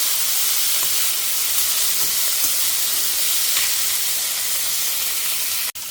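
Food sizzles steadily and loudly in a pan while chayote and peanut kuzhambu cooks, with a constant broadband hiss and no speech.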